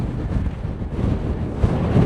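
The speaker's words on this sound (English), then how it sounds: "the stronger this wind's becoming" Strong wind roars across the microphone high on the slopes of Cotopaxi volcano, a continuous, low, buffeting rumble with gusts and no voices.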